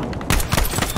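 Bursts of gunfire from a World War II shooter game crackle in rapid succession, loud and close, with a dense fusillade of overlapping shots across the second.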